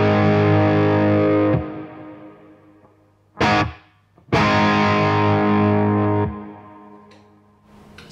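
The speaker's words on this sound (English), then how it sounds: "you can hear the reverb afterwards" Strymon BigSky pedal set to swell reverb on a held electric guitar chord, distorted and lush, with the wash rising and blooming around sustained chords between short silent gaps, loud and alone.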